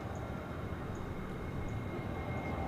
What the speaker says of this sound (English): I hear a plane coming in on 36 right